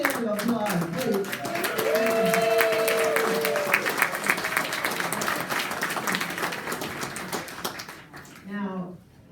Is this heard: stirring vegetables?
no